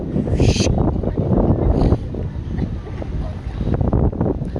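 Strong wind off the Tonle Sap river in Phnom Penh buffets the microphone in a steady low roar, with heavier gusts rising and falling throughout and no talk.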